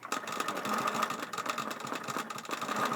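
A longarm quilting machine travel-stitches across a quilt during ruler work, producing a steady, rattling mechanical whir that pulses rapidly and evenly. The sound is close and continuous, with no voices.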